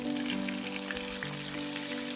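Dried pollack coated in frying batter sizzles in plenty of cooking oil in a pan, a continuous crackling spatter with scattered pops over a steady low hum, no talking.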